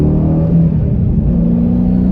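A wide-body Dodge Challenger Shakedown with a manual gearbox revs its engine up close, a loud, steady, deep rumble that holds through the whole stretch with no talking.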